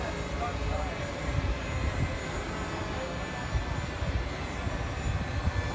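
Several model airplanes droning overhead at the FliteFest 2016 flying festival, a steady, moderately loud engine whine with layered tones that rise and fall as they pass, over faint outdoor crowd noise.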